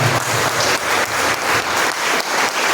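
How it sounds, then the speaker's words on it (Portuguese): A church congregation gives a strong round of applause during a worship service, dense, loud and continuous clapping that swells in waves, with no voices standing out. "Agora eu te convido a dar uma forte salva de palmas ao Senhor Jesus."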